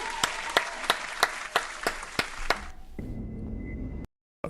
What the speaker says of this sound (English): Huge round of applause to Rain.